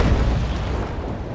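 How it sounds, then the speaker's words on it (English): Carronade cannons fire from a sailing warship in the Naval Action naval combat game, a loud, deep booming blast that rumbles heavily through the whole moment. "2 more balls from my carronades would do nicely. Okay, and fire."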